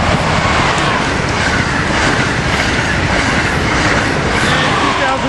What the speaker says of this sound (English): Train 2172 headed north to Metro Park Station, Island, New Jersey. Zipping by Cornwells here.